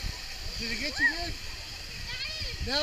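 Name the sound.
waterfall splashing onto boat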